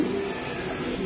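A Kanchil pigeon at a pigeon seller's gives a brief, low, soft coo, close by, over a light background murmur.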